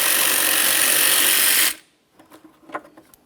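A power tool spins out a single 13mm mounting bolt from the overflow tank bracket on a 2007-2017 Jeep Patriot: a loud, steady whir for under two seconds, then a stop followed by faint clicks and rattles.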